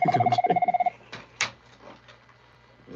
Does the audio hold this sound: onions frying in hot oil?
no